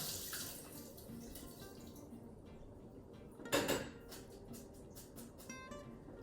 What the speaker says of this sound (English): So I'm gonna take them to my sink and strain them out.